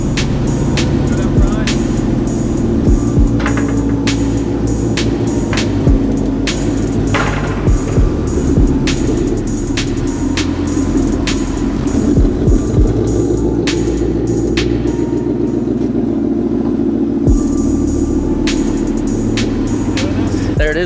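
Loud, steady throbbing of a 700-plus horsepower supercharged car engine idling with a blower, its deep rumble constant throughout with a few sharp clicks and knocks on top, and no talk heard.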